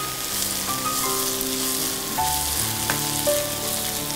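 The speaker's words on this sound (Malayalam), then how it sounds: "അപ്പോൾ ഇതിൻ്റെ പച്ചച്ചുവ മറന്നു വരെ ഒന്ന് നന്നായിട്ട് വഴറ്റുക." Shallots, garlic and dried chillies sauté in hot oil, giving a dense, continuous sizzle that stays loud and even throughout, with a faint utensil tick or two and no voices.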